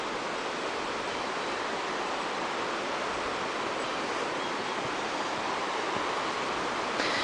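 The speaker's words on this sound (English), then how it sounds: "You can hear the water on our right side" A river rushes past a campsite as a continuous, broad hiss of flowing water, steady and fairly loud, with no voices over it.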